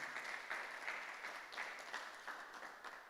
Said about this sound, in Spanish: Vamos, dele fuerte el aplauso al Rey.